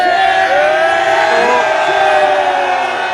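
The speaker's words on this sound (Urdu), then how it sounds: "آج نون لیگ کے لوگ ایک زرداری سب پہ بھاری کے نعرے لگا رہے ہیں" Political rally crowd of N-League supporters chants slogans, a loud, steady mass of voices with a prominent sustained shout rising above the roar throughout.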